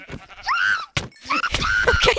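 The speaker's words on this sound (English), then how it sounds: "I want this gray sheep." Sheep in the Minecraft video game bleat loudly and close by, several quick, wavering cries in a row with a brief pause between them.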